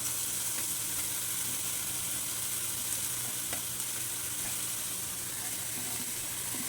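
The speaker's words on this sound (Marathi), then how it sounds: "फणसाचे तुकडे त्याच्यामध्ये घालायचे मसाल्यामध्ये घालायचे हलवून घ्यायचं एकसारखं" Jackfruit pieces are stirred into a spiced masala frying in a pan for a Maharashtrian jackfruit curry, giving a steady, close sizzle with soft scraping stirs throughout and no talking.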